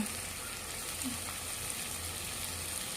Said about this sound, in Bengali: এই প্রথমবার পেঁয়াজগুলো আমি ভাজা করছি।